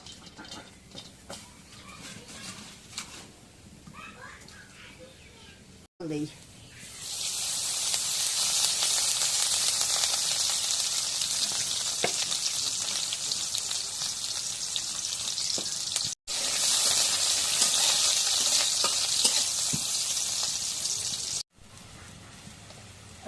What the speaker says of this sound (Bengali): পেঁয়াজ কাটা হলে কড়াইয়ের মধ্যে দিই